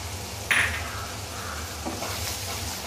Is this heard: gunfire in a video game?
no